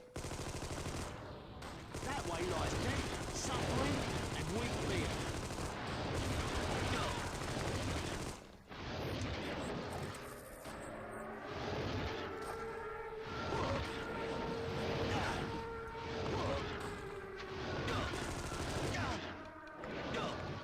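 Sustained rapid gunfire and machine-gun bursts from the Xbox game Armed and Dangerous, loud and dense for the whole stretch, with brief pauses and whooshing impacts between volleys.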